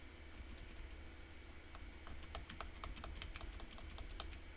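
Arrow keys on a computer keyboard are tapped in a quick run of light, near clicks, mostly in the second half, over faint steady room hum.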